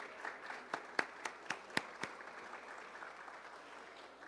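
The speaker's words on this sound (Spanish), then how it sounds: "Un aplauso, otro aplauso" Audience at a book presentation gives scattered applause, a handful of distinct claps rising into a thin patter before fading, with faint talk underneath.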